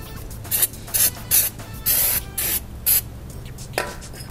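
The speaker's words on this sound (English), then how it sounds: "Give it a little bit of a spray." Brake cleaner is sprayed onto a new Mercedes C-Class W203 front brake caliper in short hissing bursts, about eight sharp blasts of varying length with brief pauses, close and loud.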